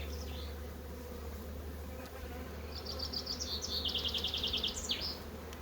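Bees hum in a dense, continuous drone around an open beehive during an inspection, steady and close, with a few faint chirps of birds high above the buzzing.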